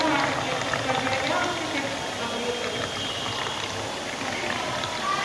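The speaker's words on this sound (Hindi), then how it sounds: "देखिए सही पानी आ रहा है।" Water running steadily from a homemade water-recycling invention at a school science fair, a continuous splashing, trickling wash that stays fairly loud and even throughout.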